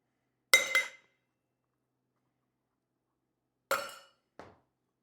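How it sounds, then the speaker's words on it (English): Ice cubes drop into the larger metal tin of a cocktail shaker while a honey-syrup Gold Rush sour is mixed: two sharp, bright clinks of cube on metal a few seconds apart, then a softer tap. "Once again, 2 ice cubes to the larger tin."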